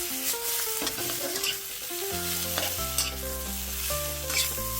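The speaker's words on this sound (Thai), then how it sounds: "ลงไปผัดคะน้าให้โดนความร้อนให้หมดทั่วๆเลยครับ" Chinese kale being stir-fried in a hot pan, a steady bright sizzle with scraping stirs, heard alone under music with no talk.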